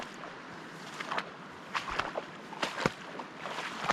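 Wading through a shallow mountain stream about six inches deep while fly fishing in the Medicine Bow backcountry; soft, irregular sloshes and splashes from moving legs rise over a steady background of flowing water.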